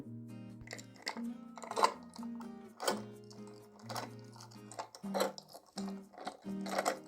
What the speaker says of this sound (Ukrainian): Це звук ключа, яким відмикають двері.